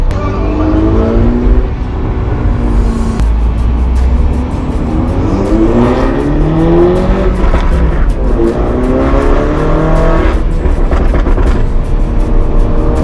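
A car lapping a track at Slush Motorsport Fest 2022 with its brakes overheated, engine loud and close as it revs up and down through gear changes under continuous wind and road noise.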